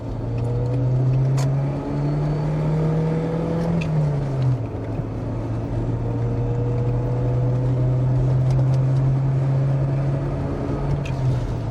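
A Volvo 240 engine pulls steadily in second gear, a continuous droning hum with a slight rise and dip in pitch partway through, heard up close from inside the car with a constant road and cabin roar beneath.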